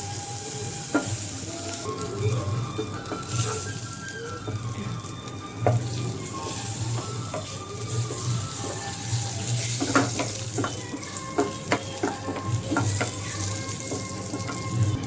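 Two tablespoons of butter sizzle and crackle steadily in a hot pan, a close, continuous frying hiss with occasional sharper pops.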